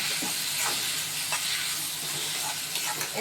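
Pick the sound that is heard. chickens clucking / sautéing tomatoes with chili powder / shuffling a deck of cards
sautéing tomatoes with chili powder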